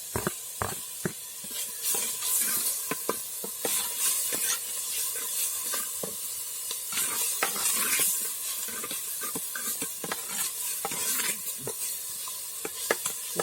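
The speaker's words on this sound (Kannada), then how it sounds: "ಫ್ರೈ ಆಯ್ತಿದ್ದು." Turmeric, coriander and spices fry in a pan for a Tulu-style pomfret fish curry, with a steady sizzle and hiss under frequent clattering scrapes of a spoon stirring close by.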